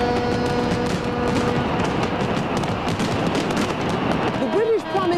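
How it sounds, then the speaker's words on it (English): The London millennium fireworks display on the Thames crackles and booms in a dense, continuous barrage of bursts and rumbles, heard from a distance beneath a crowd and a voice speaking. "Huge fireworks lasting 15 minutes, 40 tons of fireworks went into the air."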